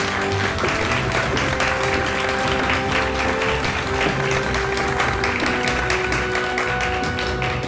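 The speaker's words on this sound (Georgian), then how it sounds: "ქალბატონ მარინას აპლოდისმენტები" Loud, continuous studio audience applause greeting Rustaveli Theatre actress Marina Kakhiani on a Georgian lie-detector TV show, a dense unbroken wash of many clapping hands with music underneath.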